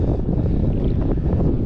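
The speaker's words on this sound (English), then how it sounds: "it's extremely windy, but we're gonna have to make it work" Strong tropical-storm wind roaring and buffeting the microphone beside a canal, a continuous dense rumble with no break.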